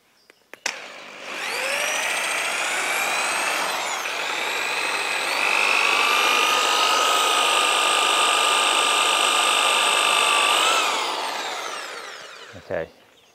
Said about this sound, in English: I've changed the drill bit size, so hopefully the wood won't crack this time.